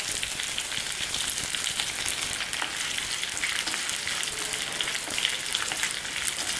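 Mustard seeds and curry leaves frying in hot oil for South Indian sambar, a steady dense sizzle and crackle that runs loud and continuous throughout.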